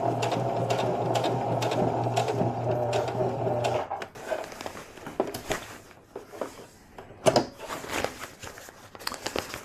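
A sewing machine runs a steady, close stitching whir for about four seconds while sewing a box stitch, then gives way to handling noises, rustling and soft knocks.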